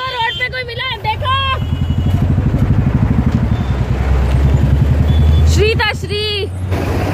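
Motorcycle riding along a city street in a residential lane, with a steady engine rumble and road noise running throughout while people talk over it.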